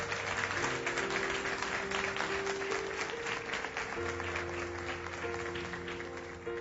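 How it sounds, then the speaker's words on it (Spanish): Church congregation applauding loudly in sustained clapping, with steady sustained musical tones underneath, fading slightly toward the end. "Apláudalo bien."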